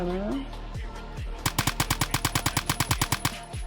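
Fast automatic bursts from a G3A3 rifle in the video game Phantom Forces, a sharp evenly spaced string of loud shots after a brief lead-in of tones and softer sounds.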